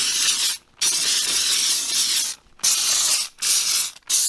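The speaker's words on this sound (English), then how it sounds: "So I'm gonna come in here and just spray the stained areas." Loud, close hissing spray from a steam cleaner on the upholstery of a Honda Civic with 200K miles, in several long bursts, each broken by a short pause.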